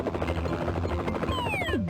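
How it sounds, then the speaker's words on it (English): A bird in a Humongous Entertainment video game giving off a helicopter-like chopping flutter: rapid rhythmic beating over a low hum, ending in a descending whistling sweep, clear and fairly close with no voices. "Why does the bird sound like a helicopter?"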